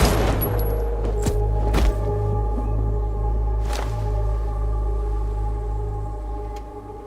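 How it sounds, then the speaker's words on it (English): Several sharp video-game gunshot cracks ring out over a steady low electronic hum and droning tones, the shots spaced irregularly, loud and close. "Somehow the gunshot takes even you by surprise."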